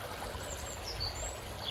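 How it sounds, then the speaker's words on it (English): Garden pond waterfall spilling over chunky boulders makes a steady, close rushing and splashing, with faint bird calls drifting in above it. "a beautiful waterfall framed up with some nice chunky boulders"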